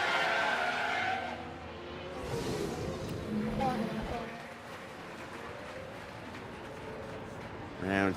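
Race car spinning out in F1 Manager 2026 at the Australian Grand Prix: a loud tyre screech and skid up front, then engines droning along at moderate distance beneath commentary, with another sharp squeal at the end.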